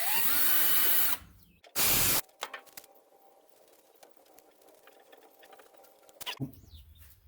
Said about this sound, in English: So I'm going to drill some holes.